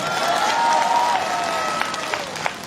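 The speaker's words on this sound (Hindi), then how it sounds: "ताली जोर से बजाइए एक बार।" Steady applause from a crowd, dense clapping sustained throughout with a few sharper claps near the end, no talking over it.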